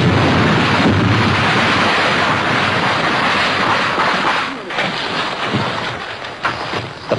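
Mortar barrage on a jungle hillside, heard as a dense, loud, continuous roar of firing and blasts that stays steady for several seconds before easing into scattered heavier bursts near the end.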